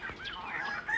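Farm chickens and hens clucking nearby, a short burst of chirpy, rising bird calls, faint and close, with no talking.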